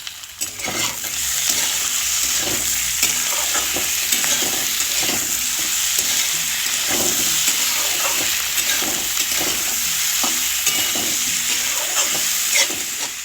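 Potatoes with chopped tomato, salt and spices stir-fried for spinach-potato curry, a steady loud sizzle and hiss with repeated rhythmic scraping strokes of a spatula, close and continuous throughout.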